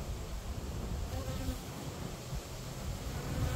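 Honeybees buzz steadily around Layens hive frames with freshly drawn comb, a dense continuous hum close by with no talking.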